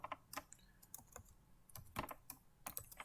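Irregular bursts of typing on a computer keyboard while entering SQLite values, crisp close key clicks scattered in quick clusters with short pauses between them, no voices.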